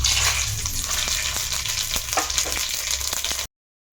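Whole spices crackle and sizzle in hot oil with a spoon of ghee, a steady loud frying hiss broken by small pops and a few stirring scrapes, ending abruptly in silence.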